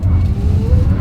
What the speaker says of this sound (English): Let's put the acceleration here to the test, and let's see how quickly we can get this one here up to speed.